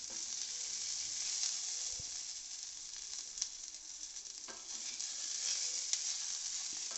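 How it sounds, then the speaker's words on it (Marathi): Red chillies and garlic fry in a pan, giving a steady, close sizzle with occasional small pops and crackles throughout. "लसूण पण परतून घ्यायचं आहे एक पाच सात मिनिटं लागतात मिरच्या परतायला"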